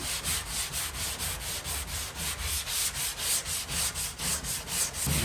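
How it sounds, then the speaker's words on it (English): Close hand sanding in a steady rhythm, with quick back-and-forth strokes rasping against a car body panel coated with guide coat, and no voices. "So what we're doing is just sanding all these areas out."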